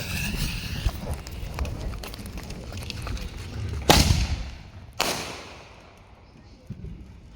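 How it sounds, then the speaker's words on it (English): Two sharp, loud blasts from artillery ball shell fireworks at a Fourth of July street display in the city, the second about a second after the first, each trailing off into a rumbling decay, with a low background murmur. "this here is the last artillery ball shell"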